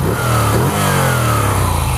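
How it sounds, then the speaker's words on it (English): A Moto Guzzi V7 III Special motorcycle engine revs up and down, loud and close, with a steady mechanical rumble, some valve train noise, and a few rising and falling pitch sweeps. "You can see it's got a little valve train sound"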